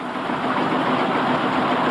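A vintage Field Marshall tractor engine runs steadily at a vintage rally, a dense continuous chugging drone, fairly loud and close, with no voices.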